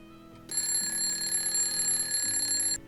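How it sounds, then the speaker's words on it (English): A bedside alarm clock at dawn rings in a steady, continuous electronic tone that starts abruptly, holds for a couple of seconds and then cuts off, fairly loud and close. "I wake up groggily, attempting to turn my alarm clock off"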